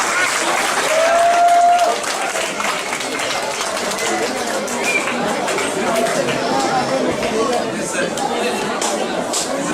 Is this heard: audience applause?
yes